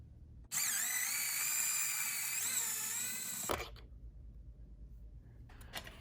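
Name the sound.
removing T25 bolts from BMW S1000RR motorcycle fender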